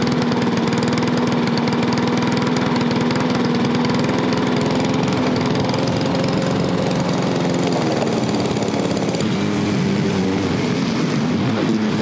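A lawn mower engine running on windshield washer fluid as fuel drones steadily and loudly close by for the whole stretch, holding a constant mid-pitched hum with no talk.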